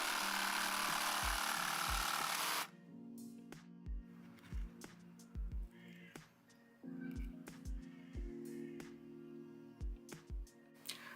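An Einhell TC-JS 18 Li cordless jigsaw runs at low level while cutting tight curves in wood, a faint steady whirr broken by repeated soft thumps and knocks, after a loud burst of noise at the start.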